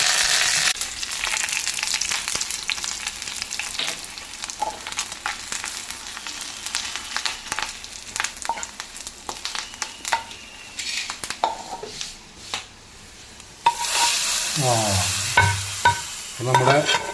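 Prawn curry with bilimbi sizzles and fries in a pan, a steady crackle with scraping stirs, then a louder burst of sizzling near the end.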